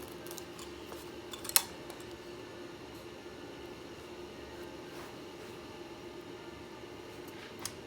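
Scissors snip carpet fibers while patching a carpet repair, a sharp close cut near the start and another faint snip at the end over quiet room noise.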